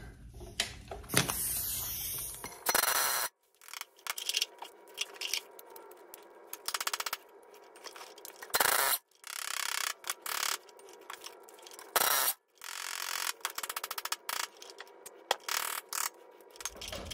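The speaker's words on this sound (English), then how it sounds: "Take these nuts off, and I'm gonna pull it out as one unit." Nuts being removed from a Dana 30 truck axle assembly with a ratchet: quiet, close bursts of clicking and metallic clattering, separated by brief pauses.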